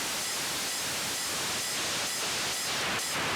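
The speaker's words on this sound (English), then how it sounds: "Page 4 is white and pink noise mix." Mixed white and pink noise from a Vega drum synth module, a loud, dense, continuous hiss with slight rhythmic swells, no voices.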